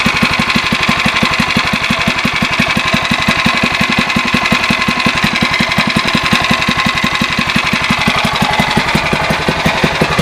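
A MotoVox minibike's small engine runs after a cold start with a loud, steady, rapid putter, its even pulses continuing throughout with no voices.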